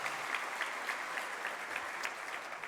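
Audience at a Boys and Girls Club Foundation of Friends breakfast applauds the club's dance team, a steady, even wash of many hands clapping, moderately distant and alone without talk.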